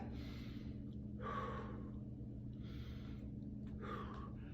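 Heavy, close breathing during a karate stance exercise, with four or five slow, rhythmic breaths in and out over a steady low background hum.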